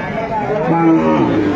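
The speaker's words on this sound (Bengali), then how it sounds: "আমরা দেখছিলাম এখানে যে গাভী বাছুরটি দেখছেন বেলাল ভাই" A cow with her calf moos loudly and close by, a long drawn-out low call, with a busy background of voices at Aftabganj cattle market in Dinajpur, Bangladesh.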